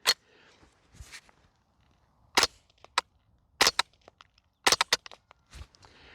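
A TriStar Kr22 .22LR rifle fires weak, quiet ammunition in a series of sharp, fairly soft cracks, some single and some in close pairs, spread over several seconds with quiet gaps between.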